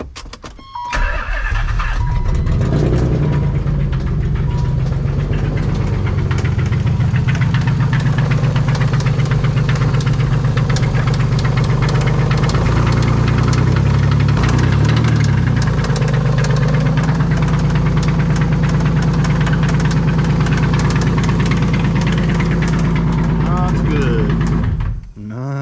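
A Nissan 300ZX engine cranks, catches and runs rough with a loud knocking rattle, a close steady roar that holds for over twenty seconds before cutting off, with voices faintly under it.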